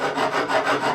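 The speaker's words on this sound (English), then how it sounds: "So I start angling the file over." A rough hand file bevels the edge of a Telecaster guitar neck, giving close, steady rasping strokes in an even back-and-forth rhythm, with no talk.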